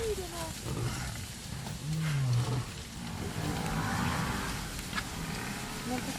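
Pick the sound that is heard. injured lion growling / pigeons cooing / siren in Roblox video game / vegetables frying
injured lion growling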